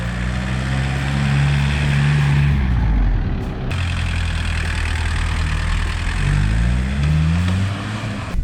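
A Volkswagen Golf Mk2 engine runs steadily and close by, its low drone rising and falling in pitch as it revs, with a brief drop in level partway through and no voices.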